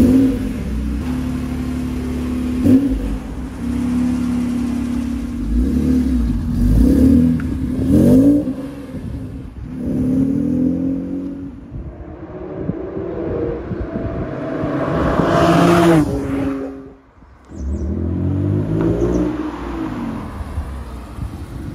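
Honda NSX 3.0 VTEC with an enlarged intake, its engine drawing air and revving up in repeated surges of acceleration, loud and close, with a brief dip near the end.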